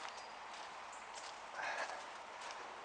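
Horses walking past, a soft, fairly distant clip-clop of hooves in an irregular rhythm over a faint airy background, no voices.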